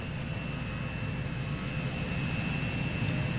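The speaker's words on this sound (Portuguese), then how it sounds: "Olha aí a decolagem." Steady jet roar of an airplane taking off in the transport simulation game Transport Fever, a continuous loud engine drone with no talk.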